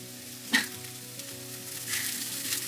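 Chopped onion drops into a hot pan with a sharp burst of sizzle, then settles into a steady, quiet frying hiss that grows a little louder near the end, with no voices.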